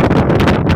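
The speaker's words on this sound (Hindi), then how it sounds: "काफ़ी तेज़ हवा, चूँकि पहाड़ का बिल्कुल ऊपर है, काफ़ी तेज़ हवा।" Strong wind gusting across a mountain top, a loud, steady broadband roar buffeting close against the microphone with slight surges throughout.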